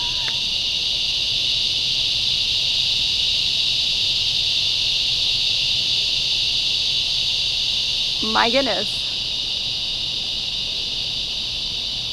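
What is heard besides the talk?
cicadas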